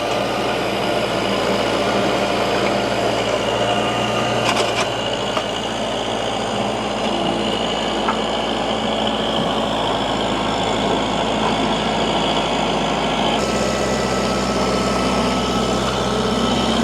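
A steady tractor engine drones at idle throughout, low and constant, with a slight shift in tone near the end and no voices.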